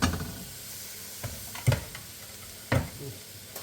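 Onions cooked a little too far in a pan, a soft background sizzle broken by a few sharp stirring scrapes and clanks.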